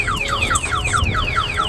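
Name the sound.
car alarm going off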